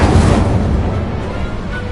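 A fire spell is cast in the Hogwarts Legacy video game: a dense, loud burst of roaring, crackling flame that holds steady for about two seconds with no pause.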